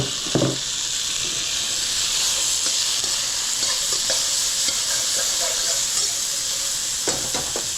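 Garlic hitting a hot pan while cooking Kung Pao tofu, a continuous bright sizzle and hiss with a few clinks and stirring scrapes, no talking.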